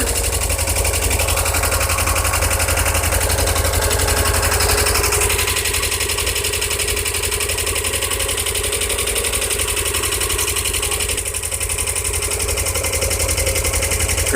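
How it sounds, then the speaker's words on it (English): Subaru 2.2L engine swapped into a 1982 VW Vanagon Westfalia idles steadily and loudly, with rapid lifter ticking over a constant low drone running throughout, no talking. "Lifters are kind of loud right now because this engine has never started. But it sounds good."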